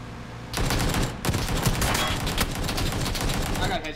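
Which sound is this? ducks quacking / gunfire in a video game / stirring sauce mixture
gunfire in a video game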